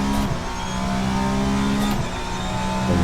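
A VRC hypercar with a 2.6-litre twin-turbo engine revs hard in a sim racing game, a loud, steady engine drone whose pitch swells and dips through gear changes across a few seconds.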